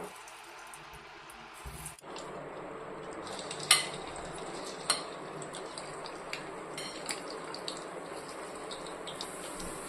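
Marinated bitter gourd pieces drop into hot oil, setting off a steady bright hiss of frying that starts suddenly and carries on, broken by a few sharp clinks of a utensil.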